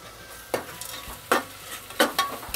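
Tomato with coarse salt and masala being stirred in a hot pan for potato and pea masale bhaat, with several distinct scraping stirs over a steady close sizzle and no talking.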